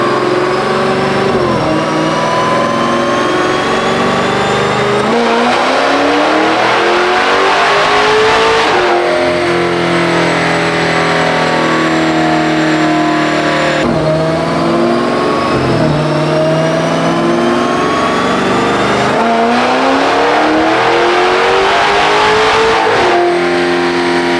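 Supercharged Dodge Challenger 392 on a dyno, its engine sweeping up through the revs in several long, loud, sustained full pulls with supercharger whine, each run dropping back before climbing again.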